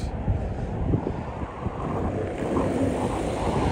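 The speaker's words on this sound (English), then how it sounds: "I hope you cannot hear the wind." Steady wind gusting across the microphone on a seaside walk in Ponta Delgada, Azores, a continuous low rumbling buffet that swells and dips without pause, with the surf close by and no speech over it.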